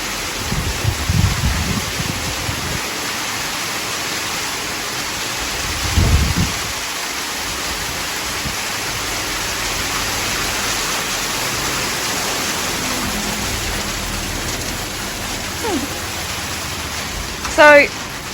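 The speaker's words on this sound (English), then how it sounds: "Hail." Hail falls during a thunderstorm as a dense, steady hiss of pelting ice, with a few low rumbles and one sharp burst near the end.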